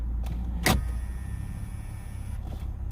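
A Lexus IS350 engine idles in neutral with a steady low hum, heard close, with a brief mechanical click or clunk early on.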